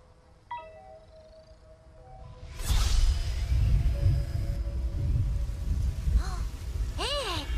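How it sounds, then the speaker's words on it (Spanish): Steady broadband rain hiss sets in abruptly after a few quiet seconds of faint tones, continuing loudly with a couple of brief squeaky chirps near the end. "¡Está lloviendo!"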